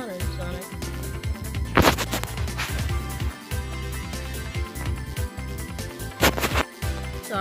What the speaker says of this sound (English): That was just me rubbing my hands against my phone.